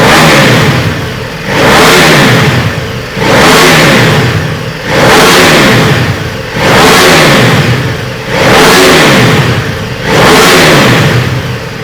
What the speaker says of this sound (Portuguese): E se liga só o ronco dessa moto, o seu escapamento original.